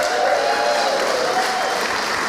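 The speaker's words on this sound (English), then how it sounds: "Let's hear another round of applause." Steady, dense applause from a large seated audience at the Scots Language Awards, continuous and fairly close throughout, with no voices standing out.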